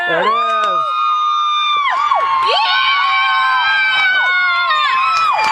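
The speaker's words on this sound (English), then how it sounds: "Not sure whether you can hear it, but this crowd is going wild." Crowd at a state championship baseball game screams and cheers loudly and continuously, with high shrill shouts and whoops, some sounding like children, filling the space in a sustained roar.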